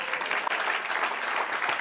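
Church congregation applause during a sermon, a dense, even patter of many hands clapping at moderate volume, continuous for a couple of seconds.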